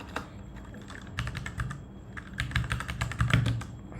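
Code is typed on a computer keyboard in irregular bursts of close, crisp key clicks with brief pauses between them.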